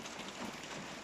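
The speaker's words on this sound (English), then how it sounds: "This rain is really loud, and I don't know if you guys can hear me very well." Heavy rain falling outside, a steady dense hiss of drops that fills the whole clip at a constant moderate level, with no voices.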